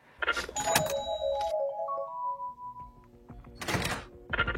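The mystery box opens in Call of Duty zombies with a thunk and a chiming, tonal jingle, followed by sustained musical tones and a few more bursts toward the end.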